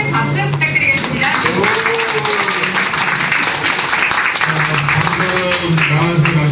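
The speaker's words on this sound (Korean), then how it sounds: "여러분 큰 박수 부탁드리겠습니다." Audience applause at a 2019 book launch event fills the room, a dense continuous patter of many hands with voices and sustained tones running through it.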